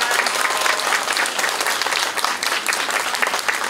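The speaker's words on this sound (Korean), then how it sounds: "마지막은 아름답게 장식해주신 우리 평화나무 합창단 분들께 한 번 더 큰 박수 부탁드리겠습니다" Big, sustained applause from a crowd thanking the Peace Tree choir at a memorial vigil for the first anniversary of the Itaewon disaster, dense and steady clapping filling the whole stretch.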